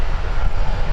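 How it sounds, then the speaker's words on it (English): An American Airlines Airbus A319 taking off at Minneapolis–Saint Paul airport, a brief, loud, continuous low engine roar heard alone. "American Airlines blasting off for Charlotte with the minibus, the Airbus A319"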